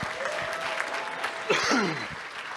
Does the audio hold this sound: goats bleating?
no